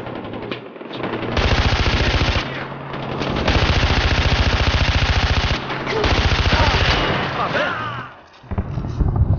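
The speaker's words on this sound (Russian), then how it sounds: "Там внизу пушка! Хватай ее! И стреляй!" Mounted gun in the video game Far Cry 4 fires in long, loud, rapid bursts with brief pauses between them, close and dominant, and a voice shouts over the gunfire at times.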